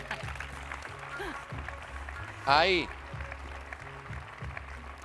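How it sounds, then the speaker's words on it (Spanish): Applause rises for volunteers at a sports awards gala, moderate and continuous beneath a presenter's voice, with one brief, sharp whistle-like squeal standing out midway. "fuerte el aplauso para ellos"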